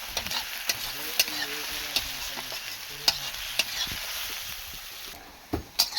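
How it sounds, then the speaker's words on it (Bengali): Onions frying in a pan with a spoon stirring them, a soft steady sizzle broken by regular sharp scrapes and clicks of the utensil against the pan, fairly close and fairly quiet, with no talking. "লালভাবে পেঁয়াজটা ভাজা হয়ে গিয়েছে দেখতেই পাচ্ছ"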